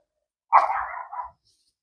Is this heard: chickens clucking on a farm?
no